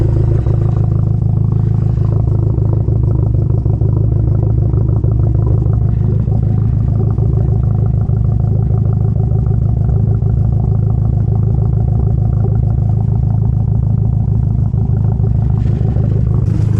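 A Hyundai Genesis Coupe with a misfire idles steadily and loud, its low engine rumble pulsing with an uneven, shaking beat throughout.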